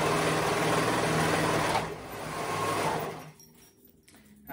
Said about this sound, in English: So let's go ahead and sew that together.